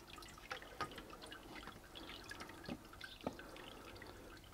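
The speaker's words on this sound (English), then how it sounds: "We'll just leave this to drain out." Wort drains from a Brewzilla grain basket after the mash, a faint, close trickle broken by scattered individual drips at irregular intervals.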